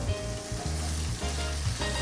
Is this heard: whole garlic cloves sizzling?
yes